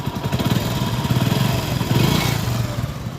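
A rebuilt Hero Honda HF Deluxe motorcycle engine runs steadily at idle, a close, loud, even putter that swells slightly in the middle and carries on without pause.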